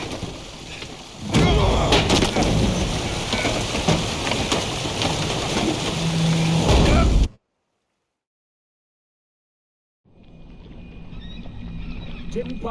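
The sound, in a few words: thunderstorm at sea in The Witcher 3 video game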